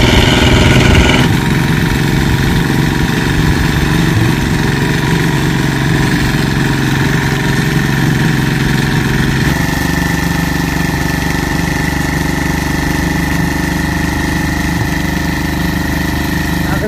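A motorized machine kneads clay for a brick kiln, a loud, steady engine drone that runs unbroken for the whole stretch, with no voices.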